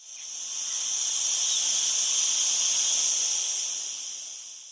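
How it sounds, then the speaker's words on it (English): Cicadas buzz in a dense, high, hissing drone that swells gently, holds steady and fades, with no voices over it. "If you said those are cicadas,"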